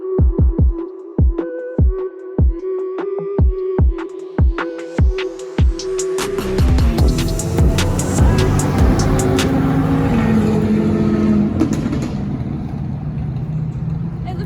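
A Corvette C8 pulls away at a car meet, starting with evenly spaced sharp exhaust pops that give way to a loud, rising engine roar sweeping into a sustained, intense rush as it accelerates past nearby.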